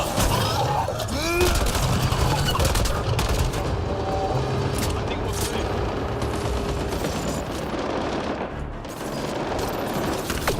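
Sustained gunfire rattles in a Mass Effect Andromeda firefight, dense overlapping bursts with scattered impacts and booms, loud and continuous throughout.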